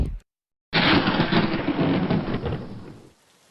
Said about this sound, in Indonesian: Pada hari itu, Kota Harmonali sedang dilanda hujan gerimis berhari-hari